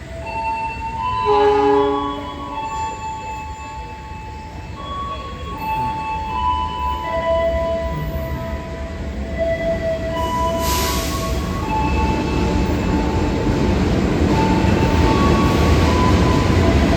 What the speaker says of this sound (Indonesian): Supasnya udah kelihatan masuk dari arah Surabaya